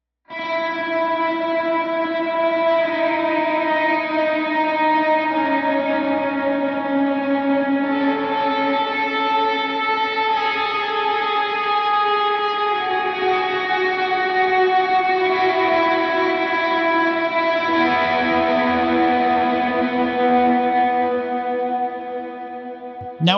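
An electric lead guitar with chorus, reverb and echo effects plays the melody of the hymn He Arose, a continuous line of sustained, shimmering notes with no talking.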